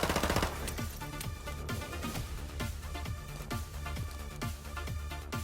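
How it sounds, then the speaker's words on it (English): Rapid automatic Mini Uzi fire in a Call of Duty game, a dense, steady stream of sharp, close shots in quick succession with no talking. "This is the Mini Uzi. It sure has a lot of recoil."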